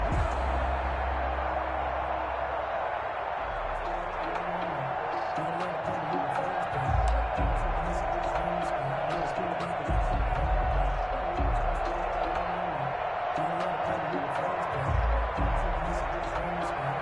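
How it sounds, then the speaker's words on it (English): A stadium crowd roars and cheers through a Saints vs Seahawks football game, with a loud, sustained swell of voices that rises and falls in waves, joined by a commentator talking over it. "And this crowd loves it as their guys hold on the opening drive."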